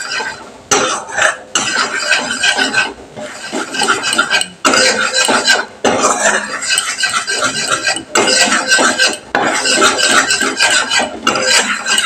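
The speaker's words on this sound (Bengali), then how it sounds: "ময়দাটাকে আমি একটু বাটারের সাথে ভালো করে নেড়ে নিচ্ছি।" Flour being stirred into melted butter in a pan over low heat, loud close rhythmic scraping and clattering of a spoon against the pan in repeated bursts with short pauses.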